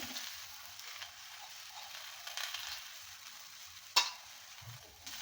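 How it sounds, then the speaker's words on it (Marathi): Methi thepla flatbread frying in a spoonful of oil on a hot griddle, a soft continuous sizzle with a sharp brief crackle near the end, no talking. "तवा गरम झाला की त्याच्यावर 1 चमचा तेल टाकायचं. त्यावर हा मेथीचा थेपला टाकायचा."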